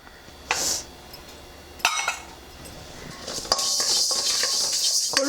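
Horse gram seeds dry roasting in a hot pan on a gas stove, with scattered clinks and pattering rattles of the dry seeds against the metal, building into a steady, bright rustling scrape toward the end.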